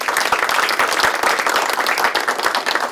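A crowd at a party rally breaks into steady, dense applause, many hands clapping together loudly and continuously at close range.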